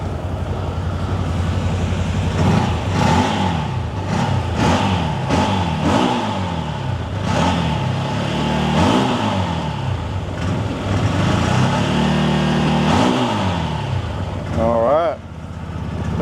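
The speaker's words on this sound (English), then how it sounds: "Let's give it a little rev from inside the cab." A side-by-side off-road vehicle engine, a ZForce 950 with a new aftermarket exhaust, revs repeatedly from inside the cab through a loud, throaty exhaust, rising and falling in short bursts over a steady idle, close up.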